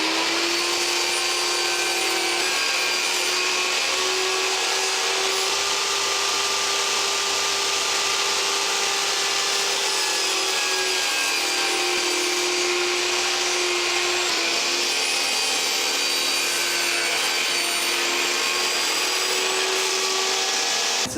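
A power saw cuts wooden sides for a tissue box against a stop block, a loud steady whine holding for about twenty seconds with no talk.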